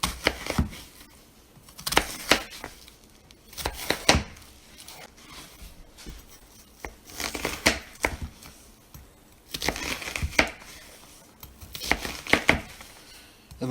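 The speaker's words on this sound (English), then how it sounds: "I'm going to go ahead and get this onion diced up" A knife dicing a whole onion on a cutting board: bursts of quick, crisp chops separated by short pauses, close and moderately quiet, with no talking.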